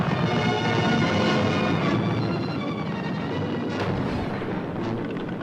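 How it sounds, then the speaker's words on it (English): Live rapid gunfire during an opposed commando training landing at Achnacarry: dense, continuous rattling bursts and booms merging into a loud, sustained roar, with a few sharper reports standing out. "Live bullets flew overhead."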